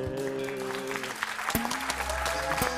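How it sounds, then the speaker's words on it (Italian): An audience breaks into applause just after a sung Italian pop number ends; sustained musical tones fade away and give way to scattered claps that grow denser toward the end. "Un grandissimo applauso!"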